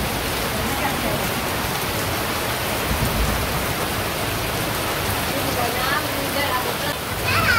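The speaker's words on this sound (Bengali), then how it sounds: "তো এই পাশে যে বৃষ্টি হইতেছে" Heavy rain pours down steadily over a village, a dense, even roar of falling water with no break.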